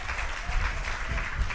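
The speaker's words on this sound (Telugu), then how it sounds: "చప్పట్లు కొట్టి దేవుని స్తుతిద్దాం." A church congregation claps together in praise during a sermon on Mary Magdalene, a brief, fairly quiet burst of dense, even clapping heard from across the hall.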